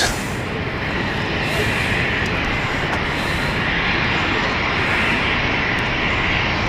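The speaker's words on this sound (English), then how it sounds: "little preview jet" Jet aircraft at London City Airport, a steady broadband engine roar holding loud and even throughout, fairly close with no talk over it.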